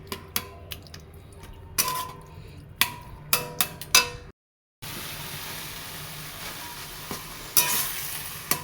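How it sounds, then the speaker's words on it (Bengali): Eggplant curry frying in a pan while being stirred, with repeated sharp scrapes and clinks of a utensil against the pan over a soft steady sizzle, broken briefly by a pause. "ভালো করে মেশাতে হবে।"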